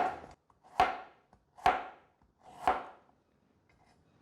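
A knife slices a piece of fresh ginger on a cutting board, landing three crisp, evenly spaced chops about a second apart, close and clear with a short ringing tail. No one speaks, and the kitchen is otherwise quiet.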